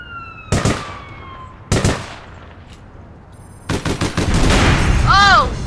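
Two sharp, loud blasts spaced about a second apart, followed by a rapid rattling burst of shots and rising whistling tones, from a grenade and gunfire in the game APB Reloaded.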